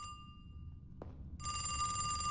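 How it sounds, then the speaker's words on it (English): A telephone rings with a bright, continuous electric bell tone like a British phone box, starting after a short pause and ringing loud and steady to the end. "Why is this phone ringing like a fucking British phone box?"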